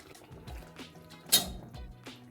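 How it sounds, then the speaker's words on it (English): Woolworths vindaloo curry sauce with beef, potato and peas bubbles in a pan, with scattered soft pops and one sharper burst in the middle. "This is bubbling away beautifully."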